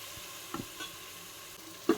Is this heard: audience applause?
no